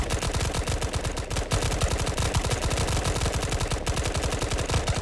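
Rapid automatic gunfire from a video game firefight rattles on continuously, loud and dense bursts with brief gaps, dominating everything else.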